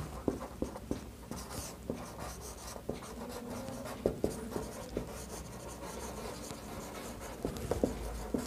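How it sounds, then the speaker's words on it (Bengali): Hand writing out the solution of a quadratic equation, steady scratching pen strokes with small taps at the ends of characters, close and quiet with no speech. "তাহলে এখানে লিখি"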